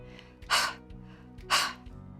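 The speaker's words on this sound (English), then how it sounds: "Brad could hear himself breathing hard." A boy breathes hard after running around a park playing chase, with two loud, breathy gasping exhalations about one second apart over a low steady hum.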